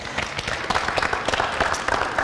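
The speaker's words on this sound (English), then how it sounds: "Give them a round of applause." An audience at a dinner-theatre event in Scranton breaks into brief applause, a dense scatter of close handclaps that fills the moment without talk.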